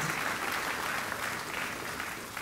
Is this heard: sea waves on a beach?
no